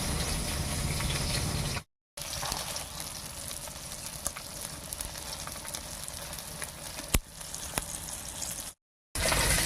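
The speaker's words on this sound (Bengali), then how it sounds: "এই মাছ কটা ভাজা হয়ে গেছে নামিয়ে নিচ্ছি" Fish frying in hot oil for a Bengali fish curry with ridge gourd, a steady close sizzle and crackle with a few sharper pops and two brief silent breaks.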